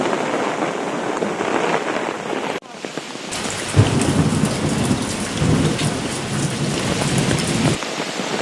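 A monsoon thunderstorm over open fields brings steady heavy rain hissing on the ground, broken by a sharp cut. Thunder then rumbles loudly with several rolling surges under the downpour, and no one speaks.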